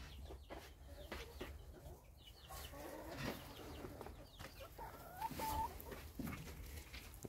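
Chickens in a henhouse on a rainy day give faint, scattered clucks and short calls over a soft background, with occasional sharper knocks and rustles nearby.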